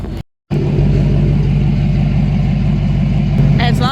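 Vehicle engine running as it rolls along a road near a campground, a loud steady low rumble close by after a brief silent gap at the start.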